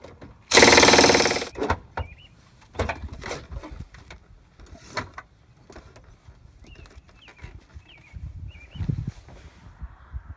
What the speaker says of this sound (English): so I'm just going to go ahead and use my impact.